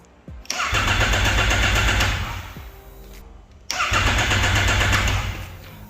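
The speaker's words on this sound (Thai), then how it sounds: "เรามาลองสตาร์ทรถดูนะครับ" A motorcycle fitted with a top-model quickshifter's anti-theft lockout cranks but fails to start. The loud, close starter whirs for about two seconds, stops, then a second cranking attempt churns on without catching.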